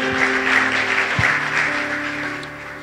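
A church congregation claps together in praise during a sermon, a dense and steady round of applause that holds for the whole stretch, with a low hum of voices and music underneath.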